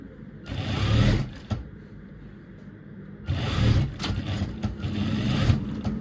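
A sewing machine stitches a dress seam in two runs, a short burst and then a longer, steadier one, with a brief pause between them. The whirring is close and loud, with no talking over it.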